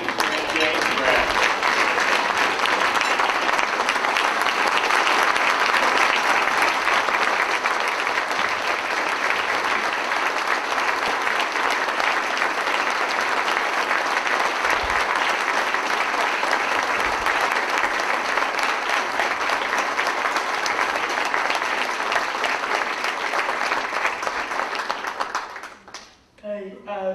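A large conference audience applauds to welcome speakers onto the stage, a loud sustained wash of clapping lasting over twenty seconds before tapering off at the end.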